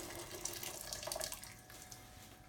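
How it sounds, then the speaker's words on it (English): Hot water running from a kitchen tap, a steady hissing splash that continues throughout, fairly faint and close, with no talk. "Okay, so that is hot water and then the stuff going in."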